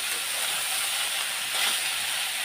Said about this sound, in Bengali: আলু ভাজার মধ্যে আমি নুন আর হলুদটা দিয়ে দিলাম। তাই একটু নাড়াচাড়া দিয়ে দিই।